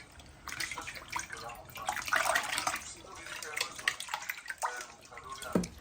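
Fufu dough is washed by hand in a basin of water, giving uneven splashing, sloshing and dripping that swell and fade in bursts, with someone talking over it.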